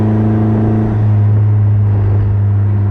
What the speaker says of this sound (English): listen to that engine, that exhaust.